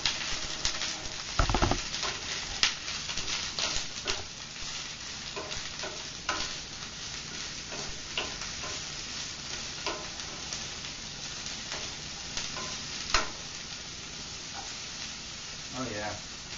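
Squash and purple pepper sizzling steadily in a pan while being stirred, with scraping and clicking utensil sounds over a constant frying hiss.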